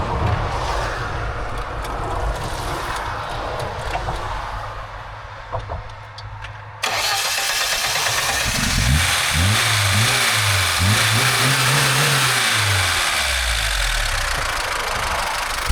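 A car engine cranking and catching after a new pump is fitted, rough idle at first, then after a sudden jump in level it revs up and down several times, loud and close with a knocking edge.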